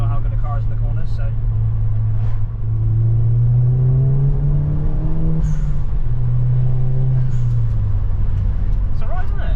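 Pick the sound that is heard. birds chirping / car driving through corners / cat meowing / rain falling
car driving through corners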